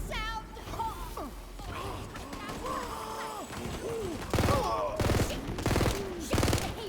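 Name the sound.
gunfire in the video game Tiny Tina's Wonderlands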